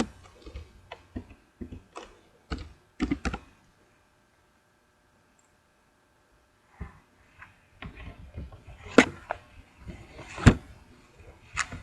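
Keys clack on a computer keyboard while text is typed into Notepad, irregular bursts of close clicks and taps, a pause of silence, then faster typing with a few louder keystrokes.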